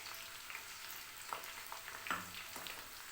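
Thickly cut onions fry in mustard oil in a kadai, giving a soft, steady sizzle with a few brief crackles and pops, fairly faint and with no talking.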